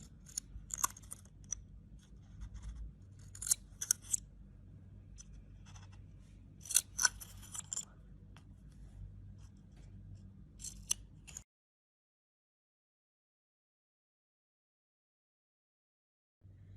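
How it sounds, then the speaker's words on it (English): Scissors cutting paper for a kids' paper flower craft, a series of close, crisp snips and crunches in uneven bursts for about eleven seconds, then silence. "Please take a paper like this and carefully cut it."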